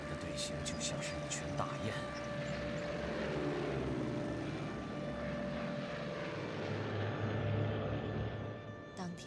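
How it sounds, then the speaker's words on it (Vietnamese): A formation of 27 Japanese propeller-driven bomber planes flies overhead in a wartime film scene set over Chongqing, a continuous loud droning engine roar that swells and holds throughout. "Coi kìa, chúng đến rồi, 27 chiếc máy bay ném bom Nhật Bản."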